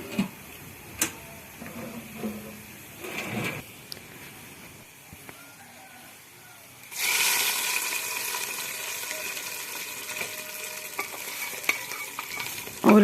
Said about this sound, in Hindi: ये तड़का जो है हम साग में डाल देंगे